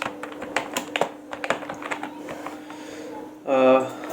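Computer keyboard keys clack in a quick, irregular run of taps up close, thinning out toward the end, followed by a brief louder tonal burst.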